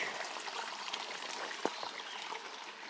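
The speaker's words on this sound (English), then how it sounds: "There's Deer Creek." Deer Creek flows along an overgrown stretch of the Pacific Crest Trail, giving a steady, soft wash of running water with one brief knock partway through.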